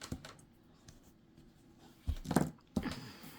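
Scissors snip excess yarn from a crocheted doll sweater, two or three short, close, crisp cuts near the end of an otherwise quiet stretch.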